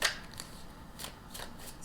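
Tarot cards being shuffled by hand at close range, a series of quick crisp riffling bursts with short pauses between them, no talking.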